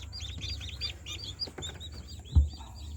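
Backyard Brahma chickens, parents of newly hatched chicks, cluck and call softly in a steady stream over a low outdoor rumble, with one brief louder thump near the end.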